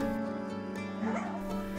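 A dog at a rescue shelter in Pamulang, South Tangerang, housing about 250 dogs, gives sustained whining, yipping calls at close range, with steady tonal howls throughout.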